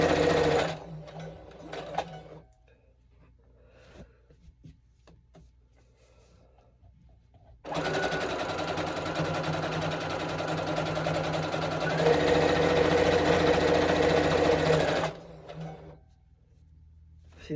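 A sewing machine runs while a quilt is stitched, starting with a few short bursts and then a long, steady, fairly loud whir that rises in pitch partway through before stopping; a voice talks in the quieter stretches.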